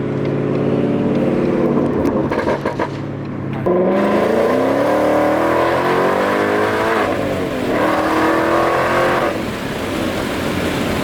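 A Whipple supercharged Mustang GT accelerates hard through the gears, its engine roaring loudly with rising pitch, a brief shift break, then renewed climbing whine and exhaust rumble from inside the car.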